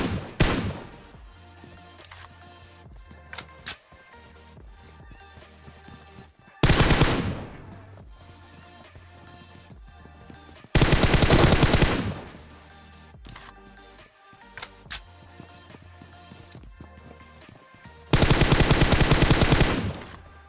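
Gunfire in PUBG Mobile comes as scattered single loud shots and three long automatic bursts of rapid, sharp reports, with quieter game ambience and distant pops between them.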